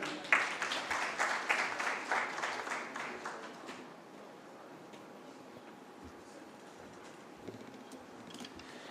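An audience at a Green Climate Fund launch event in Nairobi claps in a burst of rhythmic applause that fades after about four seconds, leaving a murmuring room with faint scattered sounds.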